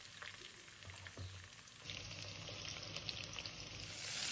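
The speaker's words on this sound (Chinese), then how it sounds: "繼續以中小火慢慢炸香" Fresh red chilies and dried chilies fry in oil over medium-low heat, a faint continuous crackling sizzle that swells slightly louder partway through.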